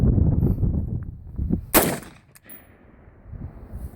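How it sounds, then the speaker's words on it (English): An AR rifle with a Radical Firearms adjustable gas block, its bolt carrier group caked in dried mud, fires a single loud, sharp shot partway through; rumbling outdoor noise comes before it and a quieter mechanical tail follows. "let me just go ahead and fire it again"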